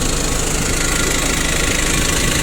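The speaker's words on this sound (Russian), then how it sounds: "Тут у нас вот такой двигатель Mitsubishi, дизельный, как уже сказал, 4-цилиндровый." A four-cylinder Mitsubishi diesel engine in a two-tonne forklift runs at a steady idle, loud and close, with an even knocking rumble and no talking.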